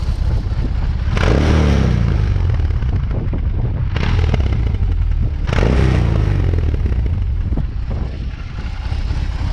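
A BMW R18 motorcycle engine rumbles loudly and revs up in three strong bursts, with crackling pops from the exhaust between them, close to the microphone.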